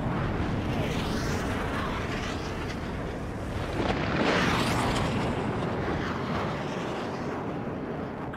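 An explosion in the jet combat game Ace Combat 7: Skies Unknown, heard as a loud, sustained, roaring rumble that swells midway through, with no speech.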